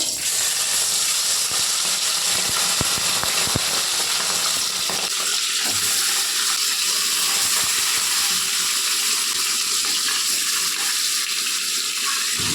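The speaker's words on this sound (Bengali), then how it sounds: "এখন আমি মাছটা ভেজে নেব" Salt-and-turmeric-coated fish frying in hot refined oil, a loud continuous sizzle and crackle that stays steady throughout, with spattering pops in the first few seconds.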